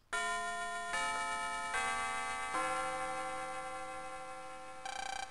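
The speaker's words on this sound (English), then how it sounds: "Ah, the bell!" A school bell chimes in the Mega Man Battle Network 6 video game: clear, ringing electronic tones step through several pitches over about five seconds, each one sustained and resonant, heard alone.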